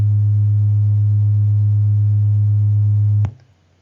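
A pure sine tone at 110 Hz, a loud steady low hum held unchanged for about three seconds before cutting off abruptly, with no other sound.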